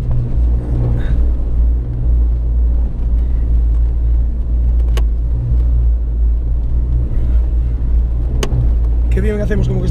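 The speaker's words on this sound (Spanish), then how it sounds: "Pusimos sonido de motor y nos movemos a veces" Steady, loud, low engine rumble playing continuously while an off-road vehicle stands still, with people talking over it.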